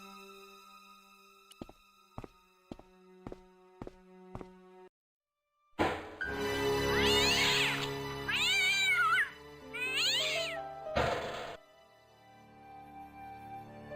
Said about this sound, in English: Don't disturb the kitty cat.